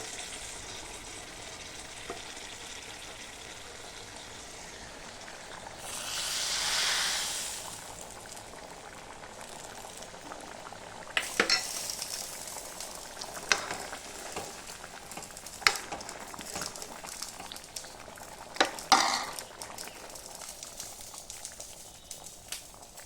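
Tadka tempering for kabuli chana frying in a pan with green chillies, a faint continuous sizzle with a brief swell of hissing, then scattered clicks and spoon taps, quiet and close, no talking.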